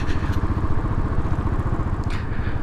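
A Royal Enfield Classic 500 motorcycle cruising in top gear at under 30 on quiet British country roads, its steady low engine thump loud and continuous throughout with no talk.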